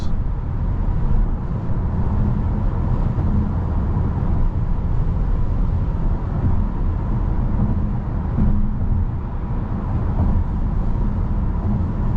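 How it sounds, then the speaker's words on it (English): Steady, loud road noise fills the cabin of a 2023 Audi Q4 e-tron electric SUV while driving, a continuous low rumble with tire roar and no voices. "Wow, it's quite a lot of road noise."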